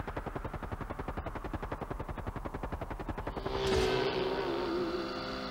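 A helicopter's rotor thumps in rapid, even pulses, then a rising whine and rushing noise swell briefly before easing off.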